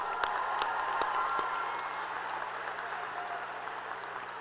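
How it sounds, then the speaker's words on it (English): A graduation audience applauds at a high school ceremony, a broad wash of clapping that is strongest at first and then slowly thins and fades. "Let's give them another round of applause."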